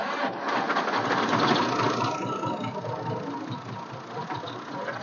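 Tractor engine running nearby, a steady rough mechanical drone with a faint clatter, holding even throughout with no voices.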